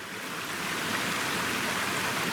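The North Fork river rushing at low water in the Cranberry Wilderness, a steady, loud broadband roar of flowing water with no talk over it.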